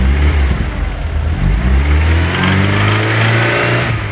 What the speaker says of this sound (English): I've started the engine, I can hear a subtle rattle, like middle of the rev range, hold it on revs, you can hear it.